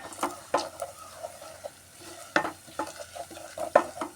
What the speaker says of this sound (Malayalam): മഞ്ഞൾപ്പൊടി ഇട്ട് കൊടുത്ത് നന്നായി ഇളക്കി കൊടുക്കുക